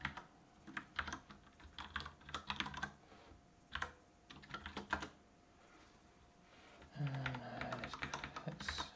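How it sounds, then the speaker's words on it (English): Someone types on a computer keyboard in irregular bursts of close, crisp clicks with short pauses between, then a denser run of keystrokes near the end. No one speaks. "We're going to be typing that a lot."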